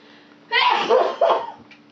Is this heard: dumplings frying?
no